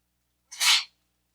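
A single sharp sneeze bursts out close by in a quiet room, brief and breathy, with silence on either side.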